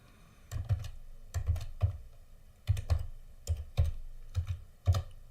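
Someone types a password on a computer keyboard, with close, soft clusters of key taps arriving in short bursts and brief pauses between them in a quiet room.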